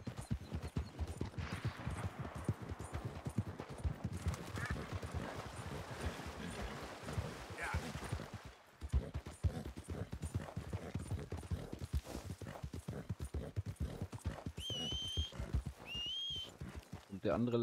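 Rhythmic hoof clip-clop from a horse in Red Dead Redemption 2, steady and close, with background music and speech over it, plus a couple of whistle-like tones near the end.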